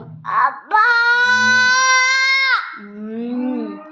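A voice imitates a cow mooing, one drawn-out, wavering moo of about two seconds framed by shorter vocal sounds, close and clear against silence.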